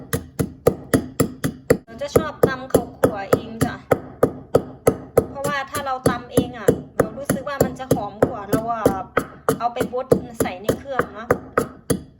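A knife chops squid, shrimp and minced pork for Thai mixed larb with steady, rhythmic thuds on a board, repeating quickly and evenly while someone talks throughout.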